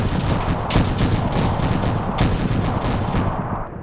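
Dense automatic weapon fire rattles continuously in a PvP shooter battle on an enhanced Kamino firing range, loud overlapping bursts and volleys with no talking.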